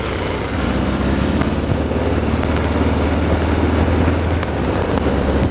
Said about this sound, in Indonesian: mesin motor ini kalau udah jalan tuh halus, suaranya halus